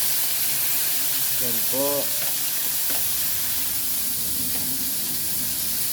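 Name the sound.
fresh pakbet vegetables sautéing in a pan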